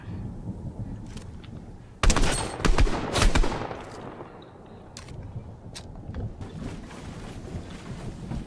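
Shotgun fire in Fortnite: a sudden loud blast followed by a second close shot a second later, then quieter in-game rattles and movement noises.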